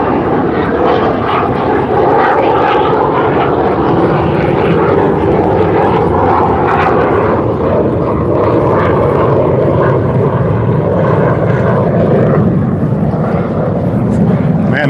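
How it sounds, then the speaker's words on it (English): An airplane on approach to land in Honolulu at the end of a flight from the mainland roars loudly and continuously overhead, a broad sustained engine drone with talk beneath it. "They're probably on the business end of a flight from the mainland"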